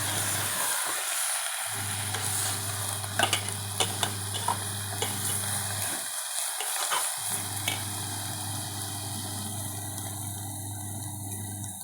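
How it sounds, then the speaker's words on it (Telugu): Mutton curry being stirred in a pan after salt and turmeric go in, with a steady low sizzle and scattered soft scraping and clinking of the spoon against the vessel, close by with no talk. "సరిపడిన ఉప్పు, పసుపు వేసి మొత్తాన్ని ఒకసారి ఇలా కలుపుకోవాలి"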